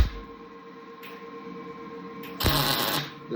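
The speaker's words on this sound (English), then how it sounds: "I pulled the trigger, it extends the wire, and I'm just tacking" A MIG welder tacks scrap steel: a low electrical hum, then a short, loud crackling burst of arc lasting under a second before it cuts off.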